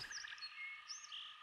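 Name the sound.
frogs croaking and chirping near water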